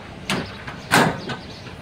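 A Chevrolet C3500 truck door is worked by hand: a short clunk, then a louder slam about half a second later and a smaller knock after it, close and clear with no talking.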